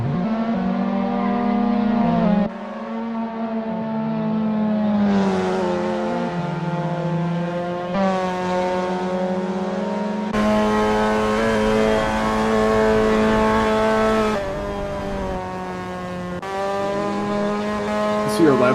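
Mazda NA MX5 race cars at the Mid-Ohio circuit roar close by, their engines droning loudly and steadily, with pitch rising and falling through repeated gear changes.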